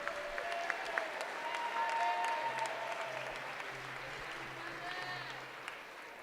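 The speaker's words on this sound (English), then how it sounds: "Let's give all of our court members a round of applause for representing Eastern Hancock." A crowd applauds homecoming court members in a high school gym during a basketball game night. The clapping is faint and distant, with scattered squeaks and murmuring voices over it.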